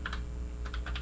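Computer keyboard typed on while writing Arduino code for an LCD display, a quick run of crisp close key clicks in uneven bursts over a low steady hum.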